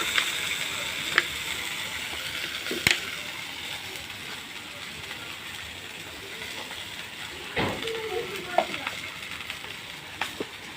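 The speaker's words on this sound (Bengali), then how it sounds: "এবার সামান্য একটু পানি দিব।" A splash of water hitting a frying paste of garlic and cumin masala, giving a continuous low sizzle with a few sharp clicks and clatters of utensils.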